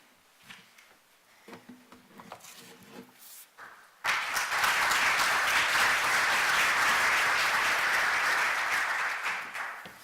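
Conference audience bursts into sustained applause after a quiet stretch with a few sounds, the clapping loud and dense for about five seconds before tapering off at the end.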